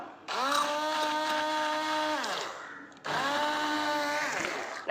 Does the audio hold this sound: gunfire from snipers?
no